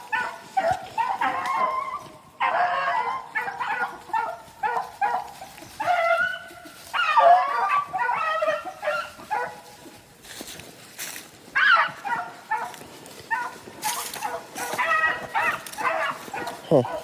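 Hunting puppies on a rabbit hunt bark, yip and whimper in repeated close bursts with short gaps, the excited calls carrying on throughout.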